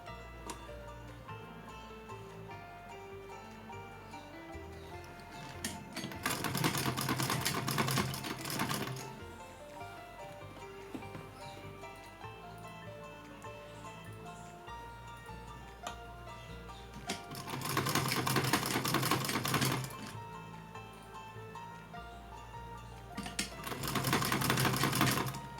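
Sewing machine stitching a small Laddu Gopal (Kanha ji) poshak dress, running in three loud steady bursts of rapid mechanical whirring separated by quieter pauses, close up with no talking.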